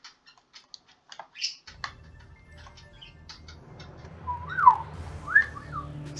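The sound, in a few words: pet bird chirping in the video game Wizard of Legend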